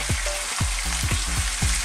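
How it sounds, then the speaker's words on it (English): Peppers, tomatoes, courgettes and broccoli sizzle and fry loudly in a hot pan, with a steady hiss and repeated knocks of stirring roughly every quarter second. "Now I'm going to add the peppers and tomatoes and the courgettes and the broccoli."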